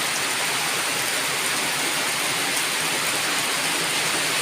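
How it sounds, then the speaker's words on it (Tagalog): Heavy rain pouring down hard at a house, a dense, steady hiss of downpour with no gaps, close and loud, with no talk. "Bumuhos ulit ng napakalakas."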